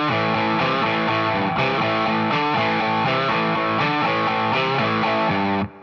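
An electric guitar with distortion plays an opening figure in steady, even all-downstroke strums, chords changing in a tight repeating pattern, loud and close, alone until it cuts off at the end.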